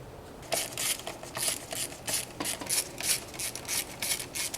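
A hand ratchet loosens the exhaust clamps on a BMW F80 M3 downpipe, giving a brisk run of close, rhythmic clicking strokes.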